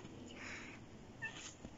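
A house cat meows briefly and faintly over quiet background noise, a single short call near the end.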